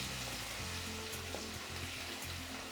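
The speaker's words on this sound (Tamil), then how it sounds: "சேர்த்துட்டு அப்படியே எண்ணெயில் வதக்கிடுங்க." Crushed garlic sautéing in oil gives a quiet, even sizzle, brief and close, without any speech.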